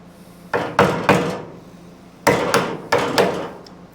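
A screwdriver is hammered like a chisel into replacement bed wood on a 1980 Dodge Stepside truck, with the tailgate used as a workbench. Hollow wooden knocks land close by, in two bursts of two and three strikes.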